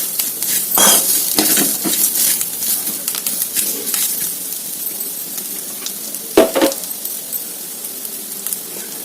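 Sprouts fry in a hot pan with a steady crackling sizzle, broken by clattering scrapes and knocks as a utensil stirs them against the metal; no one speaks.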